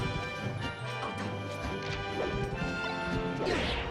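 A forward smash lands in a Super Smash Bros. Melee crew match at Shine 2023, a loud crashing hit over dense game audio with music and effects running throughout.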